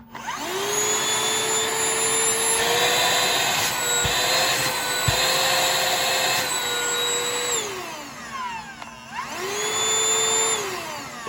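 Shark UltraCyclone Pet Pro Plus CH951 cordless handheld vacuum running on its single mode, a loud close steady motor whine that cuts out briefly near the end and then starts up again.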